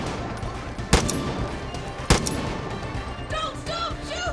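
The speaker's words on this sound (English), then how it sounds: "Don't stop shooting!" Two sharp, loud gunshots about a second apart ring out over a steady game soundscape in Far Cry 5, followed by faint chirping ambience.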